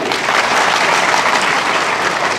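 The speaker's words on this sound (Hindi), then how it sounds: "ताली बजाइए" An audience applauds loudly and continuously at a public talk on human rights and the constitution in India, a dense, even wash of clapping with no pause.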